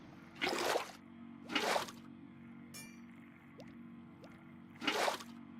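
Water emptied from a tank into the copper top of a steampunk boiler in a video game, heard as three soft splashy gushes, two close together and a third after a pause, over a low steady hum.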